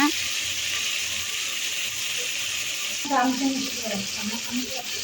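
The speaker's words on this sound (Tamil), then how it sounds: "வெங்காயமும் தக்காளியும் நல்லா சேர்ந்து வதங்கி வந்துருச்சு" Onions and tomatoes sauté in a pan for chicken curry, giving a constant, bright frying sizzle, and a voice speaks over the hiss in the second half.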